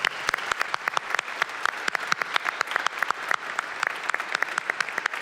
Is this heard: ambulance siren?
no